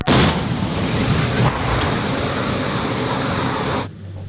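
Captured Russian tank firing its main cannon in a strike, one sharp heavy blast at the start followed by a long loud rumbling roar that cuts off abruptly, no talking.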